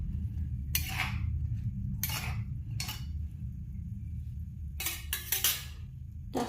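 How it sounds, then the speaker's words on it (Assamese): Eggplant pieces are stirred slowly in a pan. A few separate scraping clinks of the utensil sound near and clear over a steady low hum, with no voices. "তাৰপিছত লাহেকৈ এনেকৈ লৰাই ল'ব বেঙেনাখিনি।"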